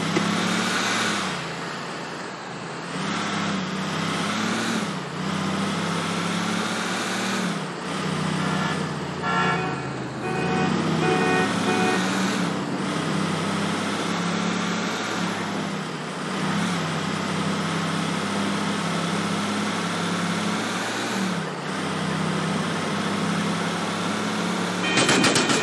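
Car driven through city streets in Grand Theft Auto IV, a steady engine drone with horn toots now and then, loud and continuous without talk.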